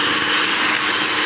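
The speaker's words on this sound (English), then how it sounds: "Now with a hand mixer, whisk, wooden spoon or a spatula, you're going to cream these things together." An electric hand mixer whirs steadily at a constant, loud, buzzy pitch while creaming butter, sugar and flour for chocolate cupcake batter.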